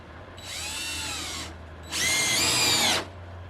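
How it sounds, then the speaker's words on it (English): A cordless power drill drives regular deck screws into a door jamb in two close, loud whirring bursts, each lasting about a second, the second slightly louder, with no talking. "I'll put some screws in there. These are just regular deck screws."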